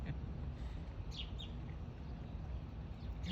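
Birds giving several quiet, brief chirps over a low steady outdoor rumble, heard at a distance with no voices.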